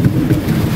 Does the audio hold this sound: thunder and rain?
yes